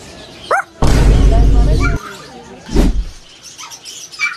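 A dog gives a short bark nearby in a pet shop after a high squeal and a loud burst of noise, then the room goes quieter.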